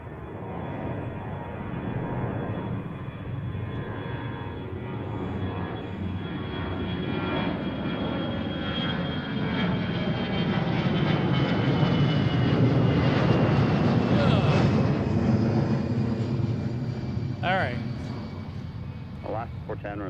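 An Alaska Airlines jet airliner takes off from a Seattle runway, its engine roar building to a loud, sustained broadband rumble that swells and holds, heard from a distance with a faint whine over the top.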